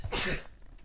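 A single short, sharp sneeze bursts out at a tabletop Dungeons & Dragons game session, quiet and close, followed by near silence.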